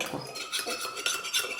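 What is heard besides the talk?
stirring xanthan gum into water for a gel serum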